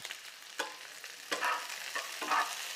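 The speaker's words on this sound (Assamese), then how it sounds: "এইখিনি অলপ টাইম মই ভাজিম।" Onion, capsicum, garlic and green chillies fry in a pan, a steady sizzle punctuated by several scraping stirs of a spatula, close and fairly quiet.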